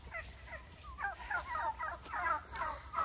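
Several turkeys gobble in quick, rippling bursts, fairly faint and a little distant, one call overlapping the next.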